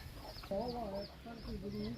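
Chickens cluck and croon softly in a short stretch, a few drawn-out calls close by over a faint background hum at low level.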